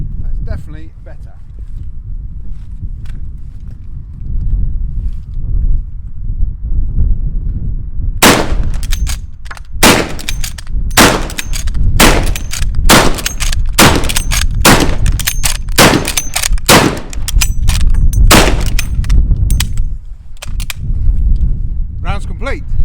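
A Lee-Enfield rifle fires longer blank rounds, about a dozen sharp, loud cracks in an uneven rapid sequence with steady background rumble and some voice underneath before the shots begin.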